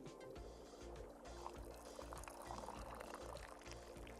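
Tea poured into a pot in the video game Wanderstop, a steady close-up liquid stream with light splashing and a soft rhythmic low-end pattern, continuous for the whole stretch without talk.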